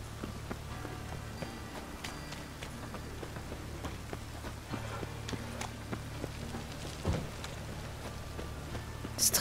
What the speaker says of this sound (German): Es regnet ganz schön.